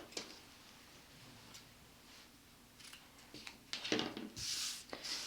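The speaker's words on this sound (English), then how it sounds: "Use my Kai scissors. Let's trim off that everywhere we can." Kai scissors trim quilt fabric at close range with a series of quiet clicking snips, sparse at first and then busier, ending with a brief brighter cut.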